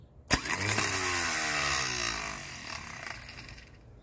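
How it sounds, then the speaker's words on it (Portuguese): A Chevrolet D20 starter motor cranks the engine, which catches with a sharp onset and then runs and revs loudly nearby for several seconds before settling down. "deu para identificar que o motor de arranque tá beleza"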